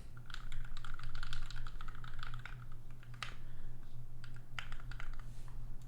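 Rapid typing on a Canoe Gen 1 keyboard fitted with Alpaca V2 switches and PBT keycaps, a close, dense run of clacky keystrokes with a brief pause midway before the typing resumes.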